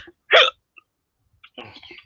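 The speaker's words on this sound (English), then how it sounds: "Hiccups, man, hiccups." A single loud, abrupt hiccup stands out in near silence, followed by a softer, muffled vocal sound.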